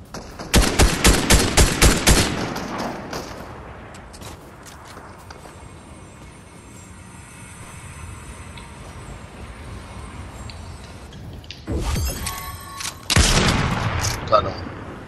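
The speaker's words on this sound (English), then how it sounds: "Yeah, I sniped him one time." Sharp gunshot bursts in Fortnite ring out loud and close in two clusters, early and near the end, with quieter game sounds and a speaking voice in between.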